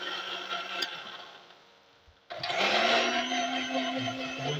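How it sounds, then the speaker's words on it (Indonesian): A kitchen blender whirs loudly as it blends probiotic nutrient ingredients, with a quiet stop midway before the motor surges back up to full steady speed. "kemudian di blender"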